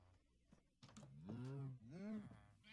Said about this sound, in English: Now we've got baby cows.